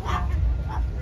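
At a Sarasota cars-and-coffee car show, a dog gives two quick, loud barks up close, sharp and yappy, one right after the other.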